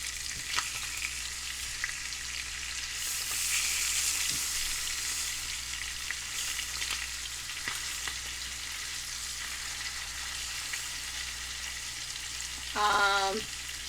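Chicken frying in a pan for smothered chicken, a steady, close sizzle that swells as pieces are turned over, with a brief clatter of a utensil near the end and a few faint knocks.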